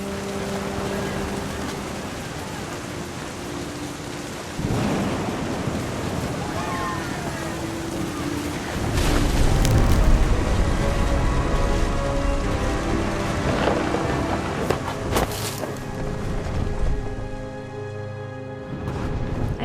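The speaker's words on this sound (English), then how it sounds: "thunder sounded much too close and full of angry power" Rain and thunder in What Remains of Edith Finch, a steady rain wash with a heavy rumbling thunder swell in the middle, beneath a narrating voice and soft music.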